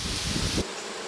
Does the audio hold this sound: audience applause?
no